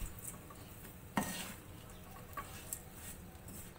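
Peanuts being dry-roasted lightly on a slow flame for homemade salted peanuts give faint, steady scraping and rustling from stirring, with one sharper scrape early on and a few soft clicks, all fairly quiet.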